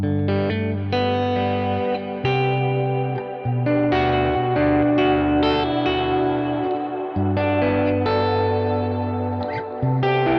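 Electric guitar through a Kemper with ambient reverb only and no delay, chords and single notes ringing into a lush, washy tail, sustained and continuous.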